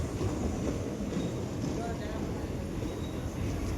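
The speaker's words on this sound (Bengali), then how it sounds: "ট্রেনটা গাইস রেড কালারের। এখানে থামবে, স্টেশন আছে।" A red train pulls into a station, a steady loud rumble of rolling wheels and carriage noise filling the scene, with a voice speaking over it.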